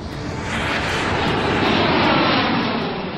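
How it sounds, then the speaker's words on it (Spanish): Air France airliner taking off from Rio de Janeiro, a loud continuous jet engine roar that swells and holds steady for several seconds, broad and rumbling with no voices. "el vuelo 447 de Air France despega de Río de Janeiro con rumbo a París"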